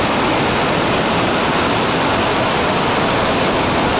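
Usina da Fumaça waterfall in rural Itamuri, a dense, loud, continuous roar of falling water that fills the whole clip without a break, no voices.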